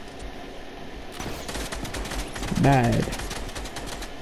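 Fortnite gunfire rattles in rapid overlapping bursts, like several players firing at once, with a short spoken word cutting in near the end.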